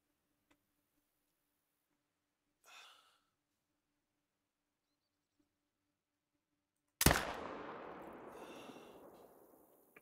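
A single loud rifle shot fired at an animal while hunting in theHunter: Call of the Wild, close and sharp, its echo rolling away over several seconds after a long near-silent wait with a faint rustle.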